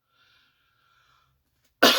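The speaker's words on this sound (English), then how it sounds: "Sorry about the coughing." A single sharp cough bursts out at the very end, close and loud, after near silence with only a faint high tone.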